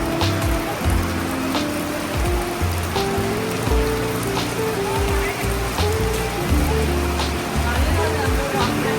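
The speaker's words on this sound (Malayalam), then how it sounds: "നല്ല സൂപ്പർ മഴ തുടങ്ങി. നമ്മളിത് ഇവിടെ എലഫൻ്റ് ആർട്ട് ഗാലറിയിൽ കയറിയിരിക്കുകയാണ്. അടിപൊളി മഴയാണ്." Heavy rain pours steadily on surfaces around a shelter at the Konni elephant camp, a dense, unbroken hiss that continues throughout as people talk nearby.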